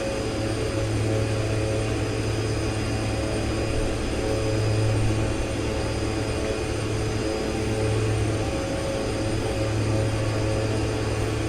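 Aircraft engine roaring steadily at full throttle through takeoff and climb in the X-Plane 11 simulator, a loud, constant drone with a pulsing low hum and no break.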